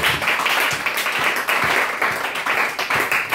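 A church congregation at a lively worship service claps loudly and continuously in praise of Jesus, a dense crowd of applause with steady hand-claps throughout.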